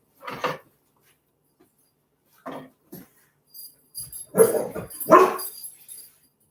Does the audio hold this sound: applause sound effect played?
no